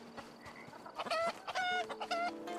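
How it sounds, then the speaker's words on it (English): Chickens in the DragonWilds video game, in a village setting, give a few short, close clucking calls that rise in bursts over a soft ambient background. "Lots of chickens."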